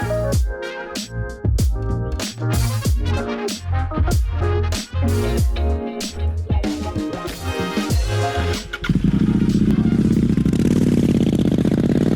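A 2018 Royal Enfield Interceptor 650 motorcycle with a 648cc engine revs hard in a rapid rhythmic run of loud bursts, then settles into a steady broadband rush for the last few seconds, close and loud.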